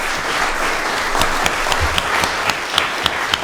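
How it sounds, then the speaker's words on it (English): Audience at a readers and writers festival anniversary celebration on Denman Island clapping steadily, a sustained moderately loud round of applause with a few sharper individual claps standing out near the end. "before we stop clapping"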